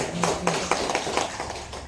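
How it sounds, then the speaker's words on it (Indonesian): An audience at a school session claps together on request, a series of evenly spaced group claps in a quick rhythm, fairly close, with a little speech underneath. "Oke, tepuk tangan dulu semuanya."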